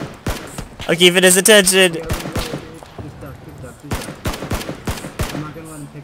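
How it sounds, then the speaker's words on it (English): Bursts of gunfire in a PUBG battle royale match, sharp repeated shots scattered through the clip at close to mid range, mixed with someone talking over the fight. "He's shooting at me."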